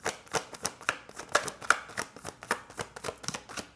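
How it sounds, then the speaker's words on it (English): Tarot cards are shuffled by hand at close range in quick, regular riffling bursts, each a crisp papery flutter repeating steadily. "sometimes, you just gotta shuffle for a bit"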